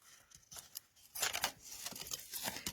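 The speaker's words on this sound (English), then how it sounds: "I'm just going to take my scissors and very carefully just snip that a little bit" Scissors make a few close, soft snips through card from a Stampin' Up! kit, with a denser run of cutting and rustling partway through.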